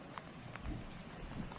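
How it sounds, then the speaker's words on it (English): Rain falls on open water around a fishing float tube. It makes a faint, continuous patter with a few soft, distinct drops. "Well, here it is raining on me."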